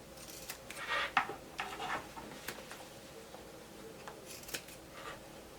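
Scissors snip through a denim jacket in a few separate crisp cuts, close and fairly quiet, with some light handling rustle between snips.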